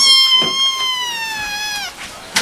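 A kitten at a cat shelter lets out one long, loud, drawn-out meow up close, its pitch sliding slowly downward before it stops.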